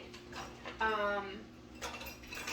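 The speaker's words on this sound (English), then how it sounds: "I need to grab my whisk." A whisk grabbed from among metal kitchen utensils while making sweetbread batter, giving a close, bright clatter and clink of metal on metal, with a short jangle in the middle and a softer rattle after it.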